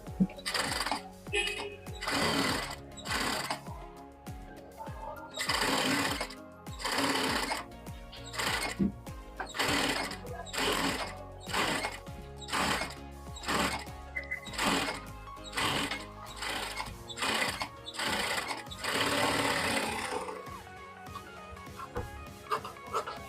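A sewing machine stitches around the folded lining of a sleeveless princess-cut blouse, running in rapid repeated bursts with short pauses between them, loud and close throughout.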